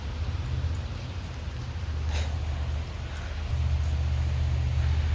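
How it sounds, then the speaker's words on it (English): Steady rain falls outdoors as an even, hissing patter, with a low, continuous rumble underneath that swells slightly near the end; nobody speaks. "It is raining out though"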